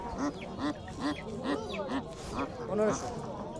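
Chinese ducks quack at a rural market in Bangladesh, a rapid series of nasal quacks close by with a steady rhythm, while people talk over them.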